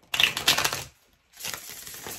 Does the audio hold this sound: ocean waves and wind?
no